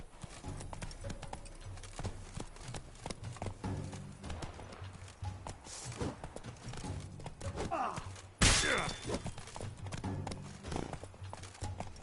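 Horse galloping in the video game Witcher 3, a steady rapid clip-clop of hooves throughout with rumbling movement, a sharp loud burst partway through, and a voice briefly speaking in the mix.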